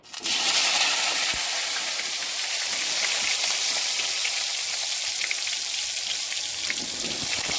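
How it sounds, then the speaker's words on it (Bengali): Pieces of pointed gourd (potol) fry in hot oil, giving a loud, steady, dense sizzle. It starts abruptly and crackles on without pause, close up and with no talking. "এবারে পটলগুলো ভেজে নেব।"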